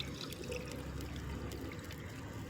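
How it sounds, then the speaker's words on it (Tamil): Water pours steadily into a kadai sitting on a lit stove, a quiet, continuous trickle and splash close by with low kitchen rumble underneath. "சரி, கடாயை வச்சாச்சு. தண்ணி ஊற்றிடலாமா?"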